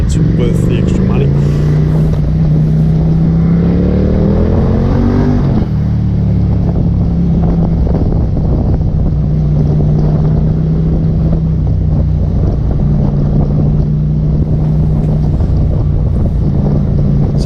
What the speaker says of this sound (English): this little Ducati comes with a single pipe Terminoni exhaust, and it is a must-have for this bike